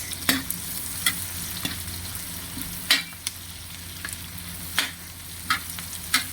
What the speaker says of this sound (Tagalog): Sunod na natin yung ating sibuyas, no? Yan, at ihalo-halo lang natin yan guys.